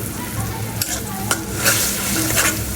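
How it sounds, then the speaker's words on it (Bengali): Ground spices with salt, dried chilli, turmeric and coriander powder stirred and sautéed in a pan for a shutki dish with kochu and pui greens, giving a steady close sizzle with scraping spoon strokes and no talk. "এখন এটা দিয়ে একটু কষাবো"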